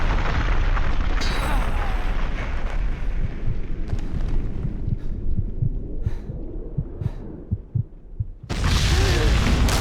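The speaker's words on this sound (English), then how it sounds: "The building's blowing up." A building blows up and collapses in the action shooter Max Payne 2: rumbling blasts and heavy low thuds pound in an irregular series, dipping briefly before a final loud, dense burst of debris and explosion.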